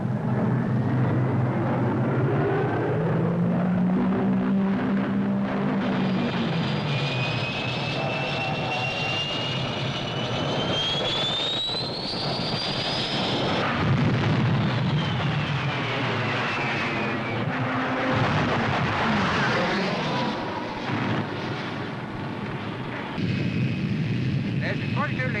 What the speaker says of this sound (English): Rocket attack. Target parked aircraft.